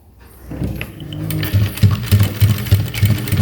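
A sewing machine stitches a uniform collar, its motor rising to a steady, rapid chatter of needle strokes close by after a brief quiet start, with no voices.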